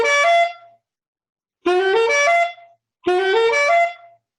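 Three quick rising saxophone runs in the bebop style, played open without muffling, each a fast cluster of notes ending on a held tone, separated by silences, close and unaccompanied.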